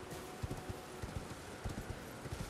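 Torrent the horse's hooves clip-clop steadily in Elden Ring, a quick, fairly faint rhythm of hoofbeats under a wash of ambient game noise.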